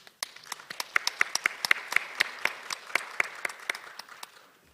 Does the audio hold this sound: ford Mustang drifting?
no